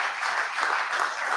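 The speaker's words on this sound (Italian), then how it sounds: "un grande applauso anche per Mauro Zanin, presidente del Consiglio regionale" Brief burst of dense applause from an audience at the official presentation of the Gesteco UEB basketball team, steady and fairly loud.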